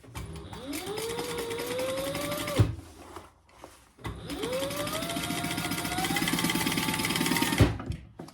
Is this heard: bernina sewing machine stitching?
yes